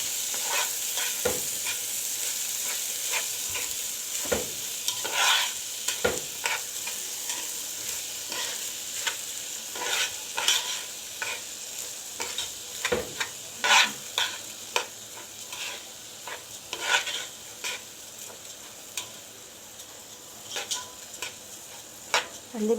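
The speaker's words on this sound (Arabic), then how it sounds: "ننزل بقى بالرز ونقول كده بسم الله. نقلب بقى كده الشعريه والرز مع بعض." A spoon stirs fried vermicelli and raw rice together in a pot for Egyptian-style rice. Scraping strokes come at an irregular pace over a faint, constant sizzle of oil, close and fairly quiet.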